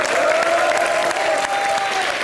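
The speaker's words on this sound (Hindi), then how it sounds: "खैर हमारे सुशील कुमार जी के लिए जोरदार तालियां।" A studio audience at a comedy show bursts into loud, dense applause, many hands clapping in a continuous wash for a couple of seconds.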